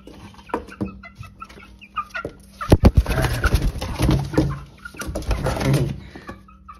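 Chicks and hens chirp and cluck close by in a poultry setting, with scattered peeps at first and then a denser burst of clucking and rustling through the middle and end.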